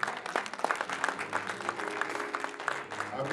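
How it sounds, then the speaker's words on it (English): A church congregation claps hands steadily and enthusiastically during praise and worship, a dense continuous patter of applause with some voices mixed in. "Clap your hands for the Lord."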